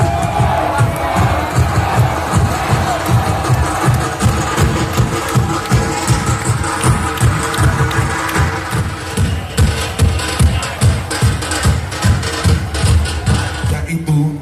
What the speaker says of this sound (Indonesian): Boleh kita berikan aplaus yang meriah untuk Pesta Budaya Tabu Pariaman 2023.